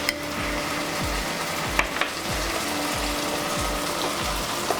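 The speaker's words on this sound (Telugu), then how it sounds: "మసాలా కూడా పచ్చివాసన పోయే వరకు ఫ్రై చేసుకోవాలి." Prawn curry masala with turmeric and garam masala frying in a pan, a steady sizzle with a spoon scraping and stirring in a regular rhythm about every half second, close up, with no talking.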